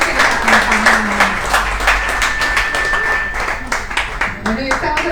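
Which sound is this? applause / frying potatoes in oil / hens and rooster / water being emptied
applause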